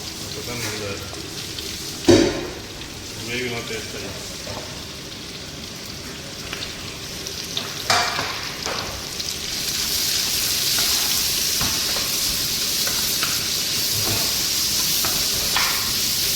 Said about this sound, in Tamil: இது பொன் நிறம் வர அளவுக்கு நம்ம கொஞ்சம் லைட்டாக வதக்கிக்கணும்